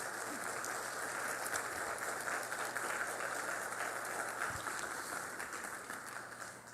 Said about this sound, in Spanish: Pues recibamos con un cálido aplauso a nuestros panelistas.